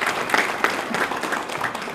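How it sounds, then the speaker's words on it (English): An audience at a government white paper release on border tourism claps steadily, a dense patter of hands close and fairly loud for a couple of seconds. "A big round of applause for him"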